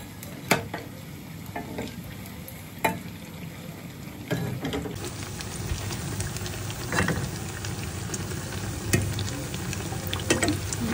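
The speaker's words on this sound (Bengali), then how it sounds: "বেগুনি ভাজতেছি।" Beguni, eggplant fritters, frying in a pan of oil with a steady close sizzle and occasional clinks of a utensil, no talking.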